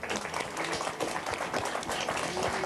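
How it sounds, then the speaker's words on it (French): Audience applause for the last winner, a short burst of clapping with some crowd noise mixed in, fairly loud and dense, with scattered sharper hand claps standing out against the wash. "Dernier gagnant, ça s'applaudit, mais pas trop fort"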